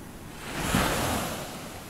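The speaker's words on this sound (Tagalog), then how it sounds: "Lakas ang alon, no?" Strong ocean surf breaking on a beach at night, a broad rushing wash that swells and fades over a couple of seconds, steady and fairly near with wind noise and no voices.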